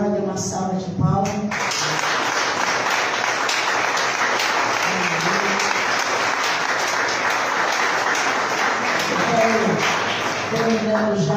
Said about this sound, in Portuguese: Você que crê nessa palavra, dê uma salva de palmas.